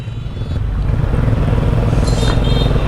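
Motorcycles rumbling loudly and steadily as they arrive near a beach on a tour, close engine drone with road noise and no clear talk.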